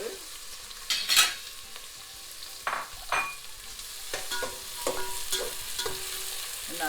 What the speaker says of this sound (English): the oil is already hot, so you put all the onions and the bay leaf